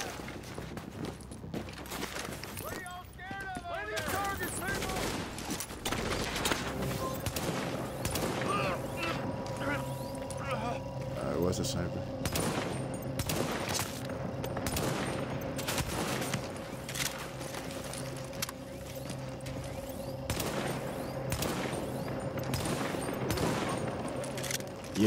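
Video game gunfire, including sniper shots in a Queens Tunnel map, crackles as dense bursts and sharp single cracks that run steadily across the whole stretch, with a sustained tone and mechanical rattles underneath.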